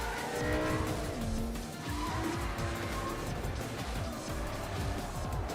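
An Aston Martin DB9 races in the Need for Speed ProStreet video game, its engine roaring continuously and loudly while tires squeal and skid throughout, with no voices present.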